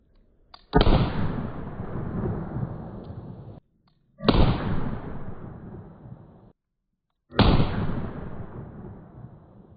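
Three loud, sharp gunshots ring out from a 3-inch revolver firing 158 grain loads with Magnum primers, each spaced about three seconds apart with a long echoing decay.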